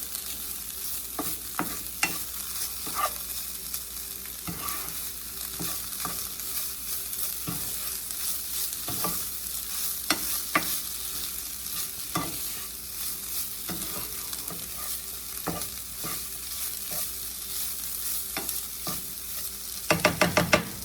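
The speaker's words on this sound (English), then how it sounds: "Gonna give this a nice good stir." Garlic and paprika fry in a pan for a vegan dish, a constant close sizzle broken by repeated scraping strokes of stirring, with a brief louder clatter near the end.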